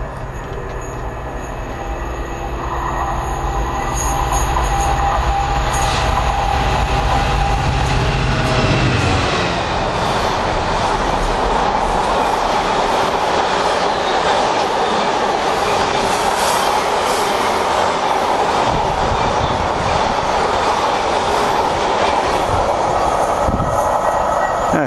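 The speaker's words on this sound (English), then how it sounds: "Here comes the freight." A long freight train rumbles past at close range, a loud, steady roar of wagons with wheel noise and occasional squeals lasting the whole stretch, heard near a rural line at Long Buckby with farmland nearby.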